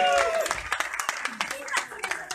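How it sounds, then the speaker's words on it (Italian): Scattered hand claps and light applause from a small crowd at an outdoor community cycling event, with voices and music-like tones mixed in over a couple of seconds. "Applauso"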